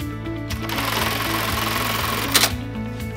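A sewing machine stitches a purple slide onto a bag strap, its needle thumping in a fast, steady mechanical rhythm with a brief rattling pause near the end.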